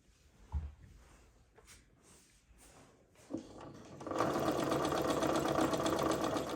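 Sewing machine stitching down the hem of a T-shirt dress as a stay stitch, a few light clicks first, then a steady close, loud mechanical whirr of needle strokes running without pause to the end.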